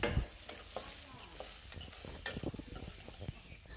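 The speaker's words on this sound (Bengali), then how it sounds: "তারপর দিয়ে দিচ্ছি পেঁয়াজ কুচি। পেঁয়াজটা হালকা ভেজে নিব।" Chopped onion and garlic fry in oil in a pan while a spatula stirs them, scraping and clicking over a steady close sizzle, with a few sharper knocks against the pan.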